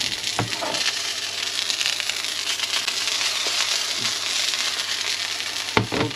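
Duck burgers fry in a hot pan, giving a steady close sizzle and crackle with a few sharp spits and clicks scattered through, no one talking.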